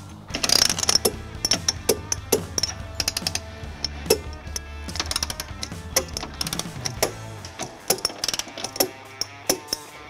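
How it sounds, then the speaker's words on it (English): An 11/16 socket ratchet tightens carriage bolts on a U-Haul removable receiver trailer hitch on a 2021 Toyota Sienna, giving close, rapid clicking bursts in repeated strokes. "we'll tighten the carriage bolts using an 11/16 socket"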